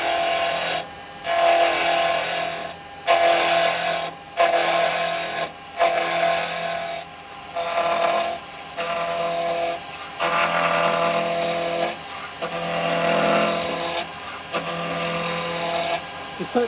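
Carbide tool cutting wood on a lathe, in intermittent bursts of scraping separated by short pauses, close and fairly loud, with faint talk in places.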